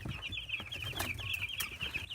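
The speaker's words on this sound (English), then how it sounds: "No, these are meat birds." Meat chickens on a farm cluck steadily and close by, a busy flock chattering without pause over a low rumble of background noise.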